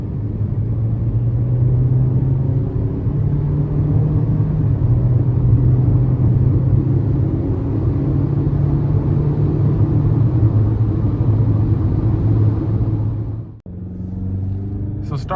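A Chevrolet Trax LS four-cylinder engine pulls under light throttle on a test drive, a steady loud in-cabin drone with rising harmonic tones that cuts off abruptly near the end before resuming.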